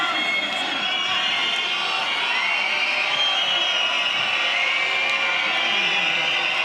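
A large fight crowd at a KSW mixed martial arts event roars in a steady, dense wash of cheering and noise that fills the whole stretch without a break.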